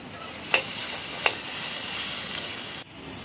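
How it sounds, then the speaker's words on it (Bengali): Ginger garlic paste frying with cumin powder and other spices in a pan, a close steady sizzle broken by two sharp spoon taps against the pan, then a sudden quieter drop near the end. "এখন দিয়ে দিব আদা রসুন বাটা।"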